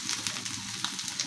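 Chopped onion and garlic sizzling in hot oil in a pan while making kalojira (black cumin) bhorta, a steady close crackle with small spitting bursts throughout.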